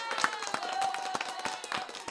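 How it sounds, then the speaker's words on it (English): A small group claps together for a couple of seconds at a casual gaming gathering, with sharp, irregular hand claps over a faint background hum. "let's go ahead and give them the hand clap one time"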